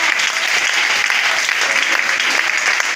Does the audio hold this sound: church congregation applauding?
yes